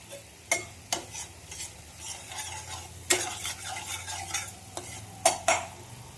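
A spoon stirs kasuri methi into bubbling yogurt gravy in a pot, sharp metallic clinks and scrapes recurring irregularly over a low simmering sizzle, close up with no talking.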